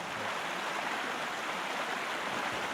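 A river flowing past an old pump house on the stream bank gives off a steady, dense rush of water noise, even and close, running unbroken with no voices.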